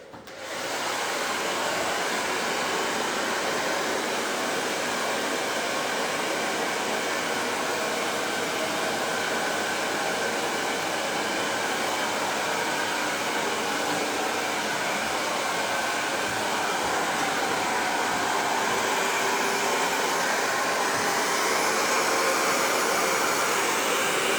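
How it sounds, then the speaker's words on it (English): A hair dryer with a diffuser attachment dries curly hair during a haircut, giving a loud, steady, close blowing roar that holds unbroken for the whole stretch without any talk. "It's really, really good air diffuser."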